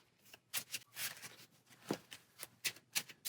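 Marvel Champions game cards are shuffled up close in a string of quick riffling bursts, each a crisp papery flutter, with brief pauses between them and no talk.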